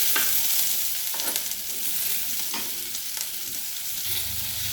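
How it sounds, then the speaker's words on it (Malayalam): Banana stem and dried fish curry being stirred in a pan, with a steady close sizzle broken by several sharp scrapes of a spoon against the pan and no talking. "ഇനി ഇത് നന്നായിട്ട് ഇളക്കി കൊടുക്കാം."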